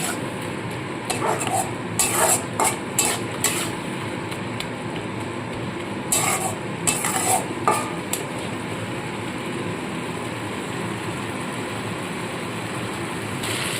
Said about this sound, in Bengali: গুঁড়ো মশলাটাকে একটু হালকা ভেজে নেব